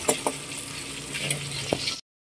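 Liempo pork belly cooking in a pan, giving a faint, steady sizzle and bubbling with a few sharp pops for about two seconds before cutting off abruptly, with no talking.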